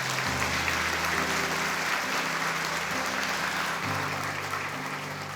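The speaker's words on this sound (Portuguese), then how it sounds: "Quem pode aplaudir Jesus?" A church congregation applauding, dense sustained clapping from many hands filling the room, with a low organ or keyboard chord sounding underneath and shifting a few times.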